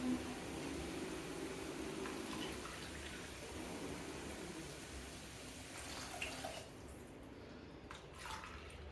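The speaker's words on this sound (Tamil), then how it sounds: "இப்போ இதில் நம்ம 2 கிளாஸு தண்ணி வைக்க போகிறோம்" Water pours from a glass onto 200 grams of rice in a cooking pot, a soft continuous splashing trickle that fades toward the end, faint and close.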